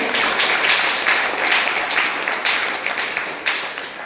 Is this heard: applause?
yes